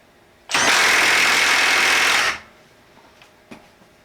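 A Milwaukee M12 3/8-inch stubby impact wrench runs a nut down on a bolt, a loud close buzzing whir holding steady for nearly two seconds, then cutting off to quiet with a few faint clicks.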